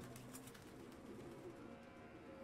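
Pigeons coo in a video game scene from Detroit: Become Human, a steady low murmur of overlapping calls filling the background throughout, with no voices over it.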